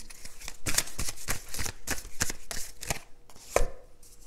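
Tarot cards being handled and drawn during a reading, a quick run of crisp slaps and flicks as cards are shuffled and laid down, close and fairly loud with no talking.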